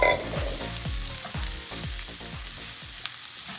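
Bacon, onions and Brussels sprouts sizzle steadily in a pan while a spoon stirs them in repeated scraping strokes, close up and alone without talk.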